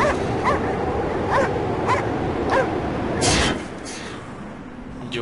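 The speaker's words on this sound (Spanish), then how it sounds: "Un perro." A dog barking in the video game Cryostasis, several sharp barks spaced about a second apart over a constant low ambient drone, followed by a brief louder burst.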